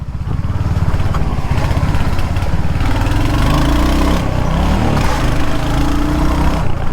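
Motorcycle engine on a road ride, a loud close continuous throbbing drone whose pitch shifts as the rider changes speed, steady throughout with no talking.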